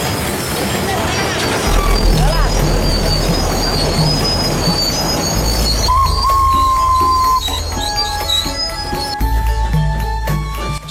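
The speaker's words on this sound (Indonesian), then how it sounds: "sewaktu saya mencarter kereta lori uap di pabrik gula Kedawung di tahun 2018" A steam-hauled sugarcane lorry train at the Kedawung sugar factory rolls close by, its wheels squealing loudly over a steady low rumble of railcars, with sustained high metallic tones toward the end.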